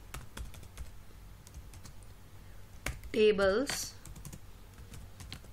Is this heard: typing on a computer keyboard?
yes